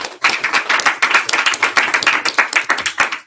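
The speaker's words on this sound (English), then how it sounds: "Let's give a big round of applause for our new pilot sales manager, Mr. David Delgado." An audience at a general session claps steadily, a dense round of applause heard fairly close with no talking over it.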